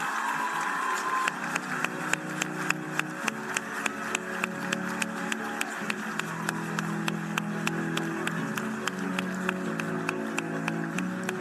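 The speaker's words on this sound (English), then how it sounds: "Let's keep those round of applause going." A crowd at a matric results announcement claps steadily, a continuous wash of applause with regular sharp claps running throughout, alone and not under talk.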